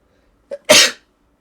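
A single loud, close human sneeze, a short sharp intake followed by an explosive burst of breath, alone against silence.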